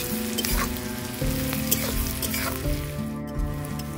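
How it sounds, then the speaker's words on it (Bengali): Onions with salt sizzling in a hot pan, a steady close fry with intermittent scraping and stirring strokes, no talking. "পেঁয়াজে নুন দেব, তাড়াতাড়ি নরম হয়ে ভাজা হয়ে যাবে"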